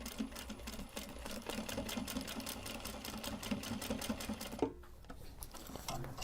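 Close, rapid rhythmic clatter of a sewing machine stitching a Japanese fabric bag, running steadily before briefly stopping and resuming for a few more stitches.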